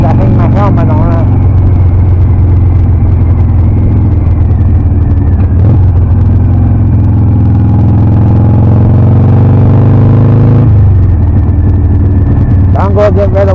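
A Harley-Davidson Sportster engine drones loud and close while riding, with a steady low rumble that shifts pitch as the revs rise and fall. Wind noise mixes in throughout.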